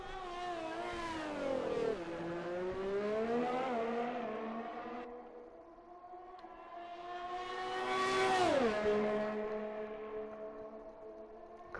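In a sim racing game at Baku, a single race car's engine screams up through the gears in long rising sweeps, then drops sharply under heavy braking, twice in succession, with no talk.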